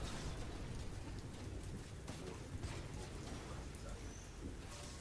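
Steady rain pours throughout a thunderstorm in the video game Titanfall 2, a dense, even hiss with low rumbling thunder underneath, continuous and fairly close, with no talking.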